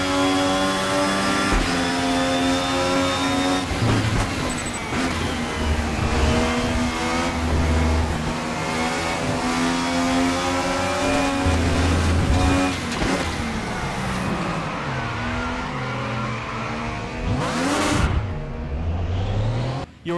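Race car engines roar through a VR racing sim race at Autodrom Most, several cars revving, shifting and howling past continuously, with one close pass sweeping by near the end.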